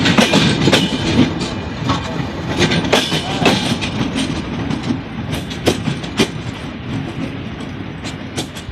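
The Jahanabad Express, a train with cabin and sleeper cars, pulls away with a steady rumble and rhythmic clickety-clack of wheels over rail joints, loud and close throughout.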